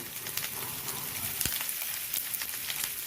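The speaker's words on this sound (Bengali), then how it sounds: "এবার এর মধ্যে গোটা গরম মশলা দিয়ে দিচ্ছি।" Whole garam masala spices hit hot oil for a chicken Kolhapuri, giving a steady, close crackling hiss dotted with small pops and one sharper crack, with no talking.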